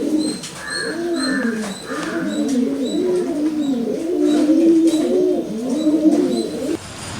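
Pigeons of the Girebaji breed coo steadily at a breeder's loft, several overlapping rolling coos close by with faint chirps above, continuing throughout with no talk.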